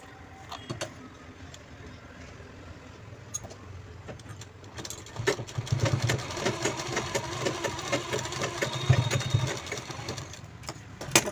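Sewing machine running in bursts while stitching a zipper onto a fabric sling bag, with a steady mechanical whir that grows louder and busier in the second half, plus small clicks and rattles.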